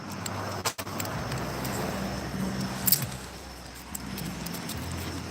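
Truck rounding a street corner close by during a walk, a steady broad engine and tire rumble rising and easing, with a few brief clinks and thumps, no talking.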